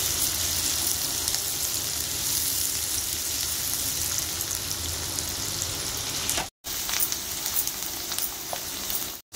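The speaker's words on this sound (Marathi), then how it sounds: "एक मोठा कांदा बारीक चिरून घेतलाय, चांगला परतून घेऊया" A large, finely chopped onion sautéing in a hot pan for egg rice, giving a loud, steady, dense sizzle that carries on alone throughout with two very brief breaks near the end.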